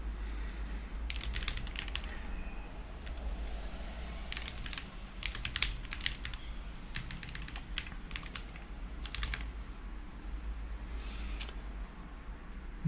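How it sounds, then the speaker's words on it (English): Mechanical computer keyboard being typed on in uneven bursts of sharp clicking keystrokes, some louder presses that may be the space bar, over a steady low background hum with no talking. "Mostly found mechanical keyboard. The only thing that bothers me is the sound of the space bar."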